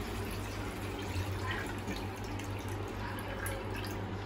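Water trickles and drips steadily out of a vessel as it drains from washed rice, a soft continuous flow with faint dripping, fairly quiet and close.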